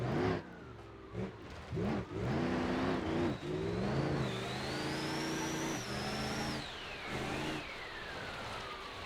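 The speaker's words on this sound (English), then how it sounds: "let's go do some rally driving" Engine of a rally car in a driving video game revs and climbs through gears, loud and continuous with rising and falling pitch, brief gaps between early revs before a long sustained run.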